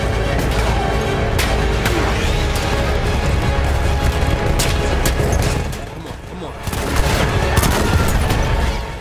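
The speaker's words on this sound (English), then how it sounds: "I don't know how they survive a shotgun blast right in the front" Dense battlefield gunfire from a Battlefield 1 World War I campaign, including shotgun blasts, fills the mix loudly and continuously, with booms and rapid shots overlapping and a brief dip before the firing swells again.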